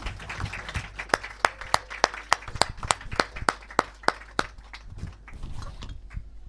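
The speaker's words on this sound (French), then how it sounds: "on acclame le Seigneur pour le corps" A church congregation claps in steady unison acclaiming the Lord, about a dozen sharp, evenly spaced claps that then loosen into scattered clapping, close and fairly loud.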